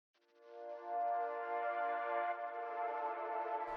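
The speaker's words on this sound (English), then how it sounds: "So the second thing we have is this Analog Lab preset right here," A sustained synth pad from an Analog Lab preset swells in softly and holds one rich, harmonic chord for a few seconds, smooth and airy, alone and without talk, before cutting off.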